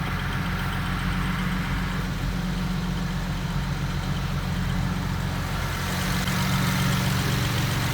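A BMW 335i with an air-to-air intercooler idles with a steady, dense mechanical drone and low rumble that holds even for eight seconds, close to the engine with no talking.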